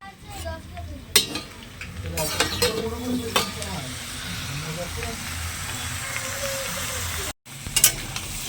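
Cauliflower stalks and winter vegetables fry in a pan with a steady close sizzle, broken by repeated scraping and clinking as a spatula stirs them; a voice speaks briefly and the sound cuts out for a moment near the end.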